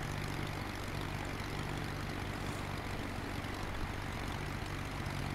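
Propeller airplane on landing approach with flaps full and gear down, its engine a steady, loud, low droning hum that fills the cabin without pause.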